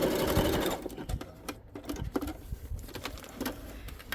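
Sewing machine stitching a fabric journal cover, a fast mechanical rattle that runs loud and close at the start, then breaks into shorter intermittent bursts with pauses.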